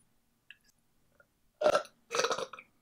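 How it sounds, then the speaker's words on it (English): A loud, close burp in two long gurgling bursts separated by a brief pause, sounding alone with no talk over it. "That was a good burp, guys."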